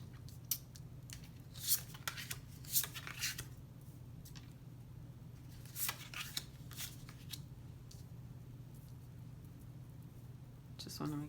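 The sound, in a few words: tarot cards being handled and flipped for a reading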